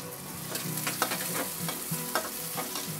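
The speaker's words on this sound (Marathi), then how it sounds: "कांदा चांगला भाजून घेऊया" Chopped onion sizzles steadily in hot oil for a Maharashtrian vajari masala, with a spoon scraping and stirring through it in repeated strokes, close up and alone without talk.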